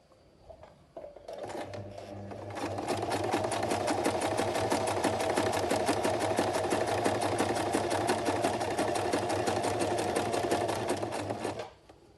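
A sewing machine stitches a buttonhole from top to bottom, a close, rapid rhythmic mechanical chatter that starts up, runs steadily for about nine seconds, and stops by itself.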